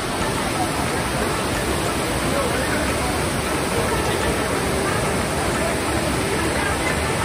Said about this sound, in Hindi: आप मेरे पीछे देख सकते हो कितना प्यारा झरना है